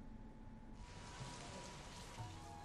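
Steady first monsoon rain in Bijapur, the Mirga rains, falls as a dense, even hiss of drops on surfaces, thickening noticeably partway through and staying constant with no voices.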